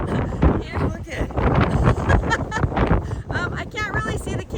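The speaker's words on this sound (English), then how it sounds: "it's a little bit windy here today" Gusty wind buffets a handheld microphone outdoors at Jerash, Jordan, a steady low rumble of wind noise running beneath people talking close by throughout.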